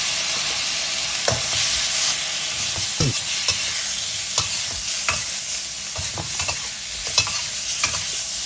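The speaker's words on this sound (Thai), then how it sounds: "ผัดสักครู่นะฮะสัก สิบวิฮะ" Chicken liver stir-fries in a hot pan with blended chilli and garlic for a Thai basil dish. Loud, continuous sizzling runs throughout, punctuated by sharp scrapes and clacks of the spatula stirring.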